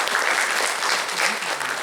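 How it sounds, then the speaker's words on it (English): A big round of applause from the audience at a business summit, steady dense clapping filling the room from start to finish with no voices over it. "Let's give them a big round of applause."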